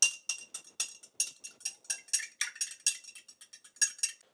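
Spoon stirring a drink in a glass, a quick run of bright, rhythmic clinks and taps repeating steadily and close, with no talking.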